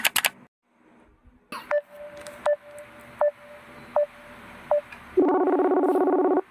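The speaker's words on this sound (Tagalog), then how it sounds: "Tawagan na natin guys" Phone placing a call: a quick burst of dial tones, then five evenly spaced ringback beeps, then a louder steady warbling tone at the end, close and clear with no talking.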